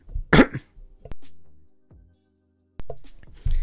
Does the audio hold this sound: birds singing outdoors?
no